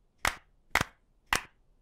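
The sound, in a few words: children clapping in time, Peppa Pig cartoon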